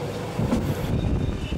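Steady rumble of a train riding through the Swiss Alps between Andermatt and St. Moritz toward a viaduct, a continuous close rolling drone with no voices.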